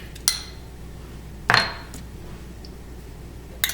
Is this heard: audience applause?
no